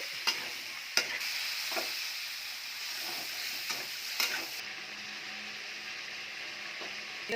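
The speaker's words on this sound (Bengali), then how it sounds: "আলুটা এখন কষাই নেব।" Potatoes stir-fried in a pan while cooking with bhetki fish, giving a steady sizzle with a few sharp scrapes and clacks of the spatula stirring throughout, close and alone with no voices.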